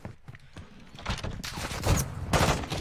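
Gunfire in the Warzone video game comes as a rapid burst of overlapping shots with dull thuds, growing louder and denser toward the end.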